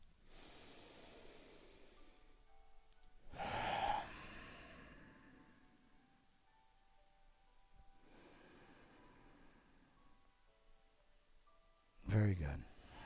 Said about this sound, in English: just hold there and breathe.